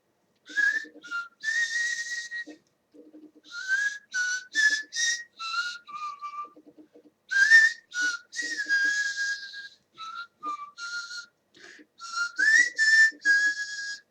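A person whistles a tune alone, in short bright phrases of clear, sustained notes with quick pitch slides and small gaps between them, fairly loud and close throughout.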